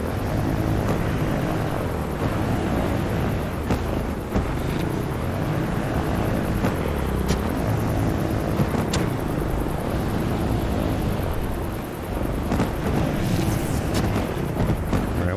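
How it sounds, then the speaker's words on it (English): A four-engine helicopter flying in the game Trailmakers, a loud, constant broadband engine and rotor roar that holds steady throughout with a few sharp clicks on top and no talking. "So this is the four engine helicopter."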